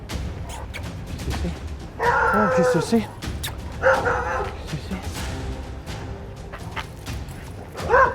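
Dogs behind fences bark and yip in short bursts at mid distance while a person talks in French over and between them.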